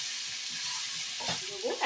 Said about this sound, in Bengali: দিয়ে মশলাগুলোকে ভালো করে ভেজে নেব আমি এই বড়ির সঙ্গে।